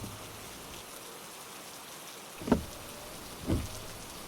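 Steady rain hiss in the background on a foggy country highway near a tunnel, with two soft splashy drops or thuds standing out near the end.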